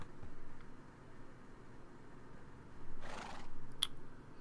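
A Minecraft horse gives a short, fairly faint whinny partway through, set against a steady hiss of game background noise with a small click near the end.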